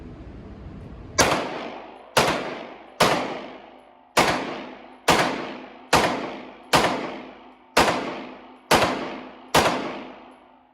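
Ten shots from a Beretta M9A3 pistol fired at a steady pace about one second apart, each a sharp close report followed by a ringing decay, with no voices.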